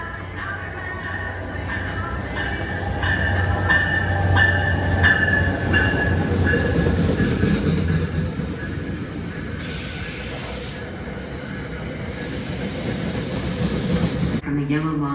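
A subway train rumbles steadily nearby at a station platform with a broad roar and hiss, brakes or air releases sounding toward the end; people talk faintly underneath.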